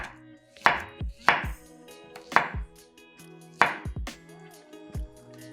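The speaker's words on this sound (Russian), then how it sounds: "1 банан нарезаем пластинками." A knife slices a banana on a cutting board, five or six crisp, close chops spaced about a second apart, each ending in a soft thud on the board, no voices.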